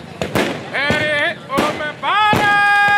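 Fireworks at the starting point of the Tour de Thar cycling race in Bikaner: several loud, sharp bangs and crackling bursts in quick succession, with whistling rockets rising between them and a voice over the noise.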